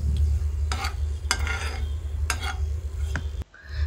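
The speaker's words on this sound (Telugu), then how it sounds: "ఆయిల్లోకి ఒక 2 లవంగాలు, ఒక చిన్న చెక్క, ఒక బిర్యానీ ఆకు వేసుకొని ఫ్రై చేసుకోవాలి" Two cloves, a small piece of cinnamon and a bay leaf fry in oil in a kadai for a Rayalaseema brinjal masala fry, heard as a low sizzle broken by several sharp spatula scrapes, ending abruptly.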